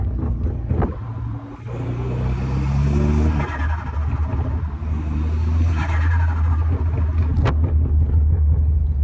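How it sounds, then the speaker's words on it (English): A BMW N20/N26 turbocharged engine fitted with an upgraded turbo inlet revs loudly and steadily, with a deep continuous rumble and recurring fluttering whooshes as throttle is lifted, close up and without talk. "the turbo is definitely a lot more louder. The flutter's pretty crazy."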